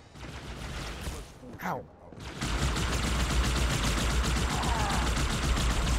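Halo 2 Anniversary gunfire: rapid automatic bursts rattle continuously and loudly, briefly dropping out before a dense sustained barrage, with a player's voice exclaiming over the shooting.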